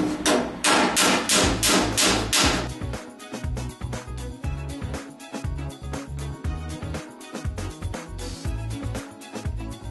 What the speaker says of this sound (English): I'm going to hammer right on top of those welds.